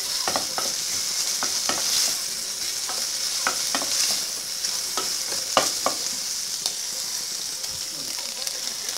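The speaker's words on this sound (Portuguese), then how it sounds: "E eu vou colocar um fio de óleo. Pra gente poder fritar a carne." Diced sertão beef frying in a thin drizzle of oil, a steady close sizzle with intermittent stirring clicks and scrapes throughout.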